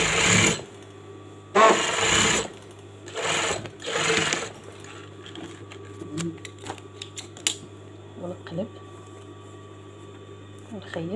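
A sewing machine stitching the lining of a qandoura garment, running in several loud bursts during the first few seconds and then quieter with small clicks and handling noises afterward.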